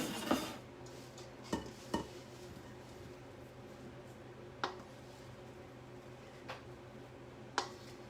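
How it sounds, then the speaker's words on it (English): Watermelon salad being served onto a dish: sparse clinks of utensils against crockery, a few light taps spread out over several seconds, faint against a steady background hum. "And put it on a lovely dish for serving."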